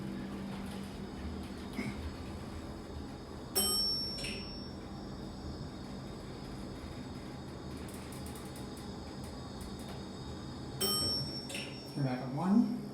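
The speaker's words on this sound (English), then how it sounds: "It's a very loud bell." A loud bell on a 2003 Southern hydraulic elevator in Duke University's Crowell Building rings twice in brief, sharp dings, several seconds apart, over a low hum of the car and machinery.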